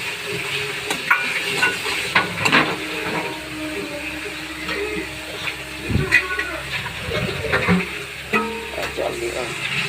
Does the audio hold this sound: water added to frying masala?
yes